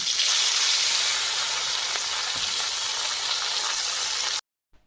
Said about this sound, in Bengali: একইভাবে বাকি মাছ ভেজে নেব